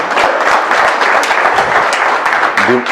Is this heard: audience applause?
yes